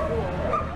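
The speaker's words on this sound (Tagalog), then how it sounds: "Rinig na rinig ang kahol ng mga asong ito mula sa isang abandonadong factory sa Rio Grande do Sul" Dogs trapped in an abandoned factory during a flood in Rio Grande do Sul, Brazil, giving high whimpering yips and barks, heard briefly under a narrator's voice.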